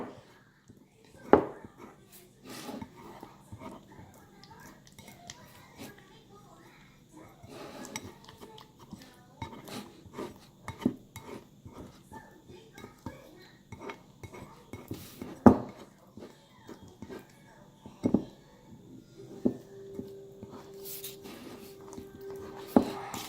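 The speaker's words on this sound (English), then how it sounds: "So you're just going to want to scrape it off the sides of the bowl." A utensil scrapes homemade slime off the sides of a bowl, giving quiet, irregular clinks and taps of metal against the bowl with a few sharper knocks, close and fairly soft.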